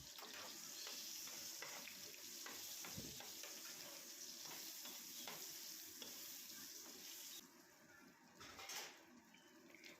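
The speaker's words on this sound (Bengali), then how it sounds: "এই বেগুনটাকে আমি হালকাভাবে ভেজে নিচ্ছি আর তেলটা কিন্তু খুব একটা গরম করিনি" Eggplant fries gently in barely hot oil with salt and turmeric, a quiet continuous sizzle with stirring scrapes, thinning toward the end before a final clatter.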